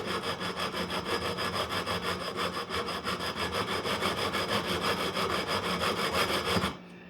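A file works a bevel into guitar fret ends with fast, even back-and-forth rasping strokes, close and steady for several seconds before stopping abruptly.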